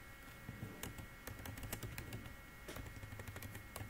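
Fingers typing network commands on a computer keyboard, a quick irregular patter of close key clicks with a few louder strikes, faint and continuous with no speech.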